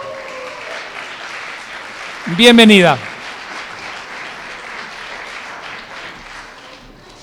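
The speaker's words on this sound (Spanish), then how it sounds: "Le recibimos con una fuerte ovación." At a legal conference on judging with a gender perspective, the audience gives a full, continuous ovation to welcome a speaker, and a voice briefly says a word of welcome over the clapping.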